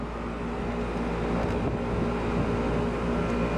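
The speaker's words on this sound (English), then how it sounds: "Universal fan motor, Copeland reciprocating compressor." A 1995 Tempstar air conditioner with a Universal fan motor and a Copeland reciprocating compressor runs steadily, giving a close, constant low hum and drone with no break.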